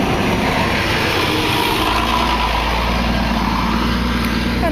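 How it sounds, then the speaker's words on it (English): The Magical Mystery Tour bus drives up Penny Lane in Liverpool, its engine giving a loud, close, steady rumble that deepens into a stronger low drone about halfway through. "This is the magical mystery tour bus that goes round"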